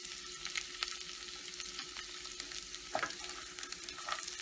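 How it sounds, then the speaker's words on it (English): Cashews sautéing in a pan for beetroot halwa give a soft, steady sizzle, with occasional stirring scrapes and a brief louder clink near the end. "Sauté it well until light golden brown color."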